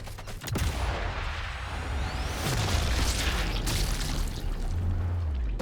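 Loud gunfire and booming blasts in Sniper Elite 5, with a sharp sniper shot near the start and a dense rumbling battle soundscape throughout, no talking.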